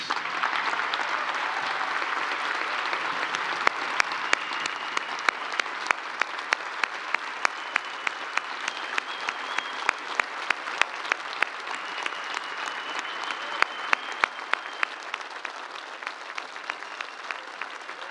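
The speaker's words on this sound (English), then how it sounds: "Let's give these families another round of applause." A large audience applauding steadily, a dense wash of clapping with some individual claps standing out, continuing throughout.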